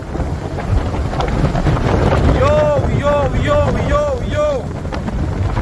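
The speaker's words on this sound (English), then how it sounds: "a catastrophic Category 5 hurricane that made direct landfall with unrelenting fury" Strong, steady wind from Category 5 Hurricane Melissa, with winds up to 285 km/h, roars and buffets the microphone throughout, with rumbling gusts, while voices shout excitedly over the storm near the sea.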